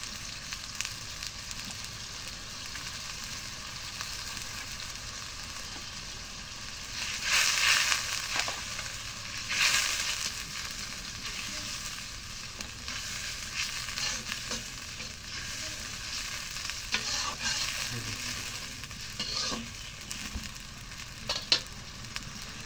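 Spice pastes of garam masala, ginger and garlic sizzle steadily in hot oil for bhuna khichuri, with a spoon scraping and stirring the pan in bursts, close and continuous with no talking.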